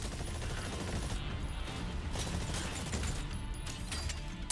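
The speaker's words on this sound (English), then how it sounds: "Activate rifle grenade to eliminate the raptors." Rifle grenade fired at raptors in the video game Exoprimal, heard as a dense, continuous barrage of rapid explosive gunfire with crashing impacts, loud and sustained throughout with no pauses.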